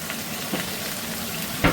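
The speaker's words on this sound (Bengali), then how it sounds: "এবার একটু এগুলোকে একসাথে ভেজে নেব" Sliced ridge gourd with poppy seed paste and a little turmeric frying in a pan, a steady sizzle with a few brief stirring scrapes, the loudest near the end, with no talking.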